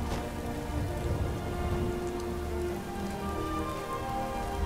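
Steady rain falls in the video game Skyrim, a dense, even hiss of drops on the ground that holds at the same level throughout, with no voices.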